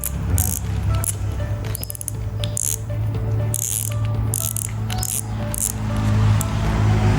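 Rapid mechanical clicking of a Pioneer Reflex RF-3000 fishing reel's clicker ratchet, in uneven bursts over a low steady hum, close up.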